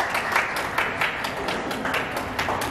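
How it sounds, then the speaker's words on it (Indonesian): Audience applause at an awards ceremony for a third-place winner, steady dense clapping from a crowd throughout, moderately loud with no pause. "Kita berikan aplaus Pak untuk peringkat ketiga"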